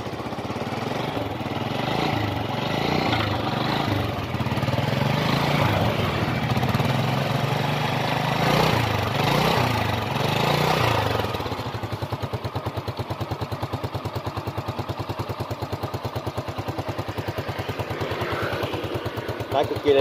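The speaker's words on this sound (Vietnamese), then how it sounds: "Rồi qua nổ máy cho anh nghe nha." A red-and-black 2010 Yamaha motorcycle engine idles with a steady, rapid mechanical putter, swelling with a few revs early on before settling into an even, close chugging idle while someone talks over it.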